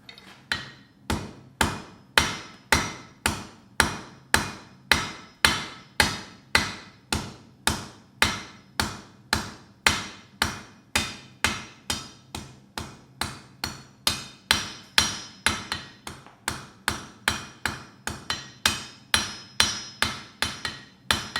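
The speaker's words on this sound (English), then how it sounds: "the first step here that I will do is to make a short taper, what will become the beard of our Odin" A blacksmith hammers a bar into a short taper on an anvil, dozens of sharp, evenly spaced metal blows ringing in a steady rhythm, close and loud with no talk.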